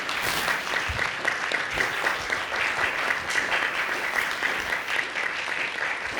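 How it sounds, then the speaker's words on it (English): Sustained audience applause fills a conference hall during a QA Summit panel discussion, a dense steady clatter of many hands clapping at close range for the full stretch with no talking over it. "Can we get a round of applause for Xpanxion for organizing this thing?"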